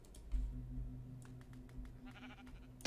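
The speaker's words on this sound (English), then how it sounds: "I have sheep." Sheep bleat in a Minecraft game world, a few short repeated bleats with a steady tonal game hum behind, alone with no talk.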